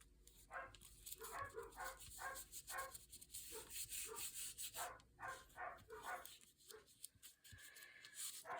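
Dogs bark repeatedly in the distance at cats, a steady run of short yaps under close rubbing and scratching sounds, like sanding or writing on a surface nearby.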